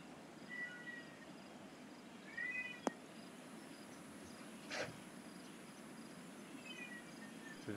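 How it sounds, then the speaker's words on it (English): An outdoor house cat gives a few faint, widely spaced meows over a steady low background hiss, with a couple of sharp clicks between the calls. "my wife's in a shower, so the cat's outside wanting to know what's happening"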